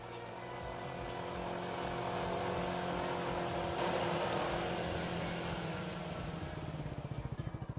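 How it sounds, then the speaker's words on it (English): A moped approaches with a steady buzzing engine that grows louder, then eases off as the rider pulls up and stops in front of a store, with no talk. "Oh my god, it's a moped."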